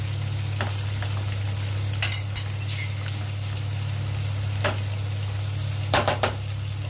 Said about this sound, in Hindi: साथ में ही हम स्लाइस ऑनियन डाल देंगे, लंबे लंबे काटे हुए प्याज, और इसको हम करेंगे अच्छे से मिक्स